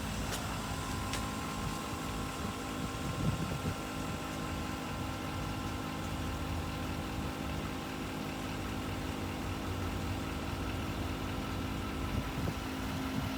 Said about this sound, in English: And you just flip the switch and air it back up. Compressor kick on, make up the air.